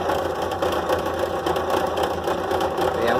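A drill press bores a hole with a small bit, its motor giving a steady, close, loud whirring drone with a faint tonal whine that holds evenly throughout.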